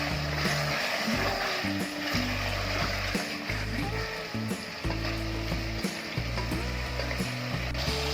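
Mutton frying in a handi with dried fenugreek, a steady loud sizzle and crackle throughout, broken by stirring clatters and scraping of the pot.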